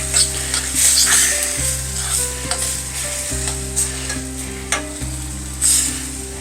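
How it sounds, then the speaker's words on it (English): Peppers and garlic with tomato juice sizzle steadily in a frying pan while a utensil stirs and scrapes through them, giving loud, continuous frying noise with repeated close clinks and scrapes. "Let's stir this around a little bit."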